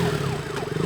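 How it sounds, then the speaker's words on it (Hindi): An ambulance siren in a film wails in quick rising and falling sweeps, loud and continuous over a low traffic rumble. "अभी एक एम्बुलेंस ने सिटीपुरम जंक्शन क्रॉस किया है।"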